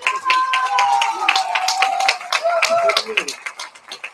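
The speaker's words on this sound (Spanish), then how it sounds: "Fuerte aplauso para ellas." An audience claps for a troupe of young flamenco dancers in red, the claps sharp and close in a steady rhythm while a voice carries over them through most of the stretch.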